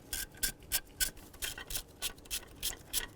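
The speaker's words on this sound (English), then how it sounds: "We need to remove both of our mounting screws." Rhythmic scraping and ratcheting as a hand tool works the distributor rotor mounting screws on a 1996-2000 Chevy Tahoe, about ten even strokes, close and without talk.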